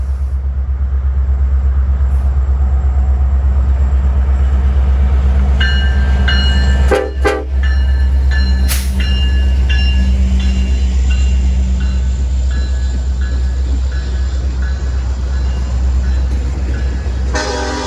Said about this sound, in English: KCS 4108 East has just traversed the Meridian Subdivision and will continue east